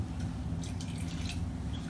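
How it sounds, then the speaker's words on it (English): A small splash of water trickles into a cooking pot in a home kitchen while preparing plant-based Egyptian koshary, a brief watery patter over a steady low rumble of background hum. "I'm gonna add just a little bit of water to this"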